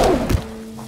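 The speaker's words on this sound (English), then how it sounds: "when you remove all the blood effects and make the gravity gun sound like this" Weak gravity gun shot in the video game Project Borealis, a single dull thunk with a short muffled thud and a faint lingering hum, brief and close.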